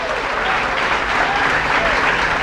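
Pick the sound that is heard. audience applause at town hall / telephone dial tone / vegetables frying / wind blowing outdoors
audience applause at town hall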